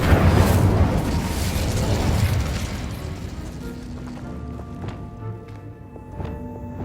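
In Hogwarts Legacy, the Incendio fire spell is cast and goes off as a loud whooshing burst that roars and then fades into a crackling tail, with faint chiming game tones following.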